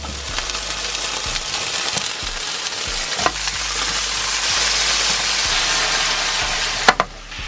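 Halloumi fries in hot oil in a pan, a steady, close crackling sizzle throughout with occasional clicks and a spatula scrape near the end.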